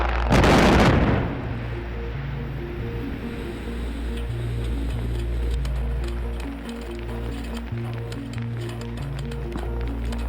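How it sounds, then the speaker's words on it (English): A single loud controlled blast at a rock quarry in Namibia erupts and rumbles briefly, then fades into a steady background of rhythmic mechanical ticking and tones. "setting the stage for an impressive controlled explosion"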